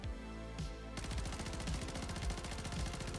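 BP50 assault rifle fire in Call of Duty Warzone, a short burst and then a long, fast, steady automatic stream of close, loud shots, no voices.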